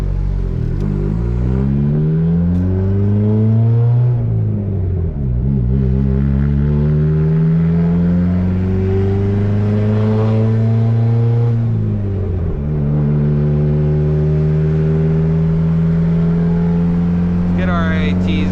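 A built, turbocharged D16 engine in a Honda Civic pulls hard on the road, loud rising revs with gear changes and repeated climbs in pitch, boost whine faintly audible near the end.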